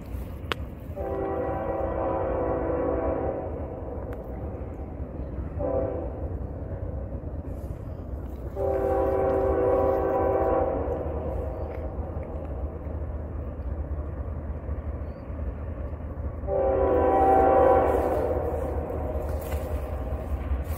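An eastbound train passes an old 1905 rail bridge in Linwood, Kansas, sounding its horn in three long blasts at a moderate distance over a steady low rumble of the rolling train.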